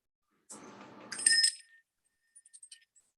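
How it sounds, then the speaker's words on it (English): A hand bell rung once, giving a bright ringing clang after a brief rustle, followed by a few faint, short metallic tinkles as it settles. "Annette, ring the bell, please"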